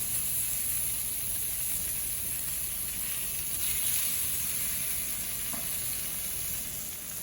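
Pompano fish sizzling on a grill, a steady, loud crackling hiss that runs unbroken for several seconds with no voices.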